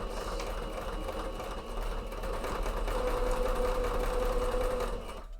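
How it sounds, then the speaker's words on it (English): Sewing machine stitching a cape mock-up, a close continuous mechanical whir with a fast steady pulse that rises a little, then stops abruptly at the end. "Let's sew this."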